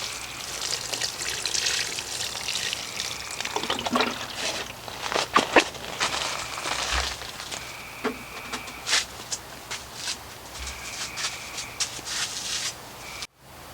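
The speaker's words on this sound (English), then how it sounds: "Let me go ahead and finish giving it some more water here." Water trickles and pours into a potted plant with old potting soil, a soft uneven splashing and dribbling close by, with occasional light knocks and clicks.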